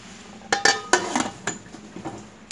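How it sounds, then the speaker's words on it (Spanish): A lid is set onto a pot of tejocotes with sugar and cinnamon, giving a few close metallic clinks and clatters in quick succession, then softer knocks, with no talk. "Los vamos a tapar y a dejar que hiervan por media hora."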